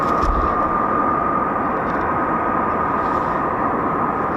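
A Handley Page Victor aircraft flies at an air show, its jet engines producing a loud, steady, broad roar with a sustained whine running through it.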